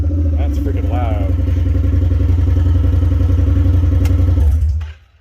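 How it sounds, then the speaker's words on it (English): A Honda Pioneer 1000 side-by-side engine running straight piped with no muffler, a loud, close, rough idle with a deep pulsing throb and clattering rasp, steady for several seconds before cutting off abruptly. "So you want to hear it actually legitimately straight piped without any muffler at all."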